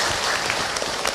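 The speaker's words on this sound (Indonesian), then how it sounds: "Tepuk tangan untuk kita semua." A brief burst of audience applause from an Islamic lecture gathering, dense and fairly loud clapping lasting about a second with no speech over it.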